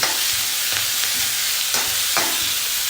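Vegetables with ginger and coriander stems stir-frying over a high flame for restaurant-style paneer chilli, a loud, constant sizzle broken by a few sharp tossing and stirring bursts.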